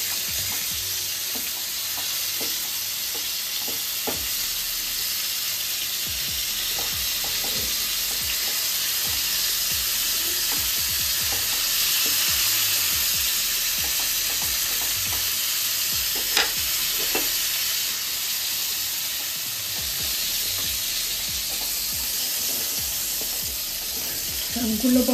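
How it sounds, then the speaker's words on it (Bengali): Pointed gourd (potol) frying in a pan gives a steady, loud close sizzle with faint occasional clinks and stirring touches throughout. "ঠিক ভাজাটা এরকমই হবে।"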